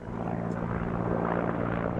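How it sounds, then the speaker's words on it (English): Ukrainian military helicopters fly overhead, a steady, heavy rotor and engine drone with a pulsing low hum that holds at a constant level throughout. "2 Ukrainian helicopters appear with priority to shoot down the drone"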